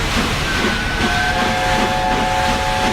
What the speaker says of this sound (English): Because all British steamlocomotives carry that whistle.